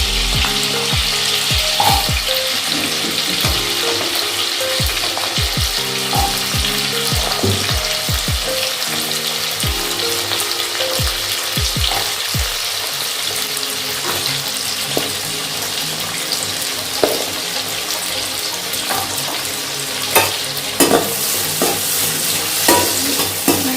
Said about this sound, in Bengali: গাজর আর আলুটাকে আমি ভালো করে ভেজে নেব।